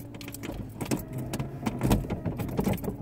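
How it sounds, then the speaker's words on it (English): Car keys jangling and rattling close by as a key sticks in the ignition of a Ford Capri, with repeated metallic clinks and jiggles. "Key's getting stuck in the ignition."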